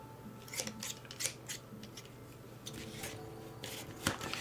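Freshly sharpened scissors snipping, a few quick crisp cuts close by over a faint steady background hum.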